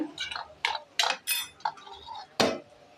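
Stirring mutton curry in a pan, Telangana style: a spoon scrapes and clinks against the metal in a series of short, close, irregular strokes, with faint kitchen background between them.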